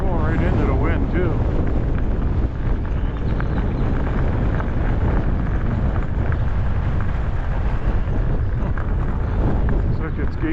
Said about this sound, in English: Going right into the wind too.